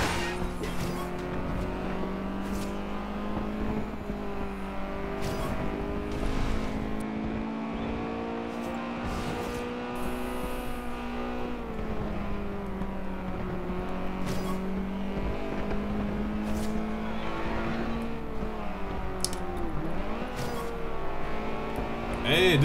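Racing car engine in Forza Horizon 2, played with a steering wheel on Xbox One, drones steadily with shifting pitch for the whole stretch, with faint tire noise, while a voice talks over it.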